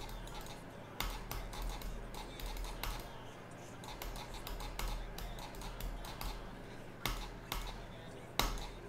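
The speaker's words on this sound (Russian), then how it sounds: "мышка как-то странно кликает" An old computer mouse clicking oddly during a Geometry Dash session, giving sharp, uneven clicks, some doubled, at irregular intervals over a steady background hum.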